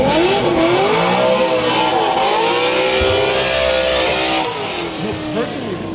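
A green and black Corvette race car at a drift event, its engine roaring loudly and steadily with rising and falling revs, while a commentator's voice talks over it.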